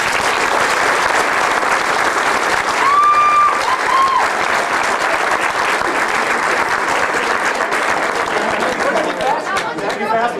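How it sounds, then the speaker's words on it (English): A motorcycle road-racing awards banquet crowd gives a loud, sustained round of applause lasting about ten seconds, with a whistle and some crowd chatter mixed into the clapping. "we'd like to give him a round of applause"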